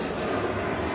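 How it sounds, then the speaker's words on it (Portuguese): A fixed-wing airplane drones past nearby, a steady broad engine roar with no distinct peaks, brief and fairly loud. "Isso é o avião."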